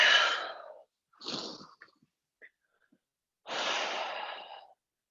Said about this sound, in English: as we tap into this Ujjayi breath, our lips are sealed. We're breathing in through the nose and out through the nose